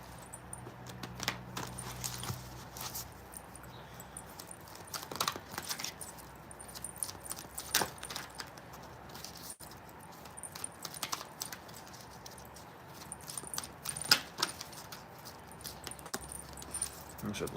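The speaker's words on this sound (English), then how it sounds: "I'm gonna shuffle 2 more times." Tarot cards shuffled by hand during a collective reading, a scattered series of soft riffles and taps, close and fairly quiet, with faint background noise and no clear talking.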